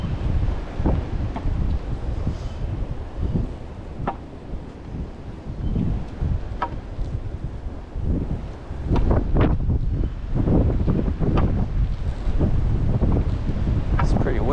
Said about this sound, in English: It's pretty windy, but that's because it's a warm day and we got a cold front moving in